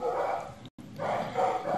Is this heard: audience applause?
no